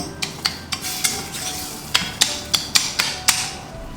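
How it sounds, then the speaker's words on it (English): Pieces of tomato are pressed and smashed into a simmering red arrabbiata sauce in a pan, giving a series of sharp spoon knocks and scrapes at an irregular rhythm over a soft background sizzle. "We'll just smash the big pieces of tomato into it."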